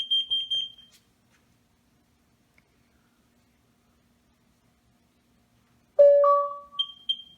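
A Nest Protect smoke detector sounds its test alarm in short shrill tonal beeps, one brief burst at the start, then a long silence, then louder chiming tones and more beeps, close and clear.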